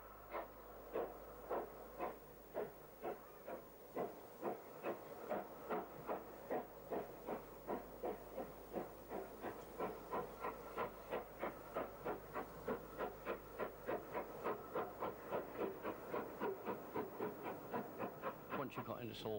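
A Southern Region steam locomotive at Salisbury chuffs steadily, its rhythmic exhaust beats quickening slightly over the stretch, with a constant hiss beneath and a low background hum.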